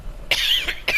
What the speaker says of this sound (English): I don't want to cough in your face.